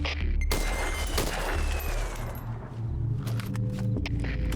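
Bursts of gunfire crack out amid a rumbling, crashing battle soundscape in the video game Metal Gear Solid V: Ground Zeroes, with sharp shots near the start and scattered impacts continuing throughout.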